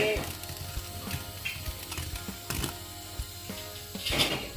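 Egg whites sizzle and crackle in a hot pan, with scraping and stirring noises breaking through the steady frying hiss.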